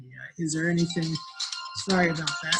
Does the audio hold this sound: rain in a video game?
no